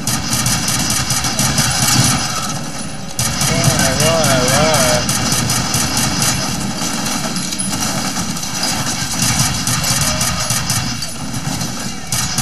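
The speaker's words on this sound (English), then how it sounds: "Oh god, the helicopter's arrived." A loud, continuous engine whine and rotor-like roar of a helicopter arriving in the video game F.E.A.R. fill the scene, with game sounds and a voice talking over the mechanical drone.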